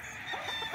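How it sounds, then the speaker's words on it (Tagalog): Fighting cocks on a farm of about two hectares in Tanay, Rizal, give out a short burst of honking, clucking calls over steady outdoor ambience. "Puro manok ano"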